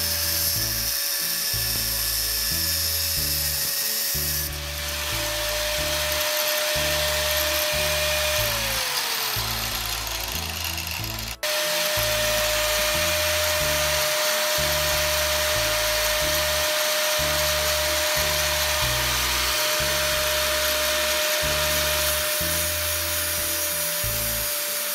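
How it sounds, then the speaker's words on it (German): A tool grinds down a small wheel part for a DIY filament spool rewinder, a continuous high whining abrasive drone with a steady pitch that dips once midway, close and loud with no talk. "Den schleifen wir uns zurecht."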